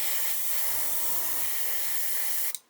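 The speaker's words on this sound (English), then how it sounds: "You can see here it's spraying very, very fine." A fine, steady hiss of an airbrush spraying acrylic paint, up close and continuous, cutting off abruptly near the end with a faint click.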